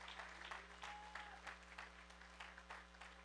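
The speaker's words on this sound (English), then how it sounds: "Let's give the Lord a round of applause." A church congregation gives a brief round of applause after a sermon, faint and distant scattered clapping over a steady low electrical hum.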